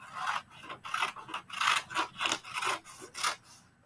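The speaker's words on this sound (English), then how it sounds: "Just cutting around the rectangle." Scissors snip through paper in a steady series of about nine crisp cuts, close and fairly quiet, each a short rasping slice as the blades trim around a rectangle for a classroom reading notebook.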